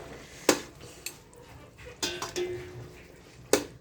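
Meat and papaya curry stirred in a pot with a spoon, giving sharp metallic clanks against the pot and a soft wet scraping in between, close and fairly quiet.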